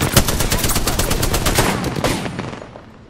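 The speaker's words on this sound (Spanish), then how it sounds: "¿Desde cuándo disparo tan rápido con esta arma, tío?" Rapid automatic gunfire from a weapon in the video game Apex Legends, a loud fast burst of shots rattling close by for about two and a half seconds before trailing off.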